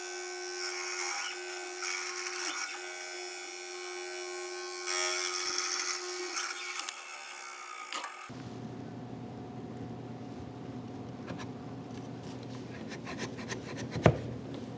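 Close, dry rasping and scraping as a wooden mortise is pared wider to fit a tight tenon on an indoor bench's seat side rail and front leg, with a steady machine-like drone in the first half giving way to quieter hand work.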